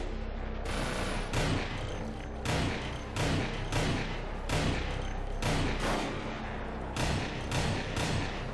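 Video game gun firing in loud, repeated heavy bursts, a dense fusillade of shots with deep booming thumps over a constant noisy wash.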